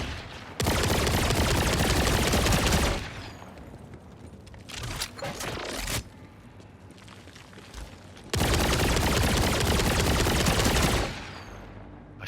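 Bursts of automatic gunfire from a weapon in the video game Borderlands 4, two long loud rapid-fire volleys separated by a quieter stretch of scattered shots and clatter.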